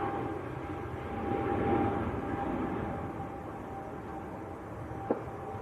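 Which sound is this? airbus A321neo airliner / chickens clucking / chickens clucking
airbus A321neo airliner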